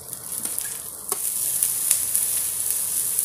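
Chopped onion sizzles and fries in hot coconut oil in a pan, a steady close crackle with a few soft stirring scrapes.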